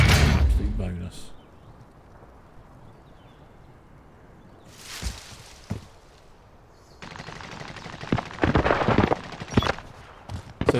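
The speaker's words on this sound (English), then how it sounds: "I could hear some gunshots in the distance off to my right." Gunfire rattles in Call of Duty Warzone solos: a distant burst early on, a couple of sharper shots midway, then a louder sustained volley of automatic fire near the end.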